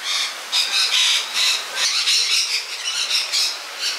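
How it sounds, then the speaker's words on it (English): A flock of colourful birds in a wildlife park squawks continuously, with overlapping shrill calls rising and falling in rapid waves, fairly close and loud with no talking. "I don't think I've ever seen that many colourful birds all in one place."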